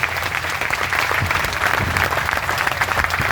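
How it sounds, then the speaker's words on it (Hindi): Protesting clerks gathered in tents in Haryana applaud themselves, a steady wash of crowd clapping that holds at an even level throughout, loud and close. "एक बार जरूर आप अपने लिए तालियां बजाओ साथियों"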